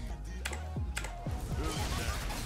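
Clicky keystrokes on a Razer BlackWidow Google Chrome Edition keyboard, quick irregular taps close up, mixed with faint game sounds in the background.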